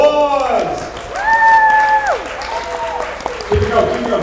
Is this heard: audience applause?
yes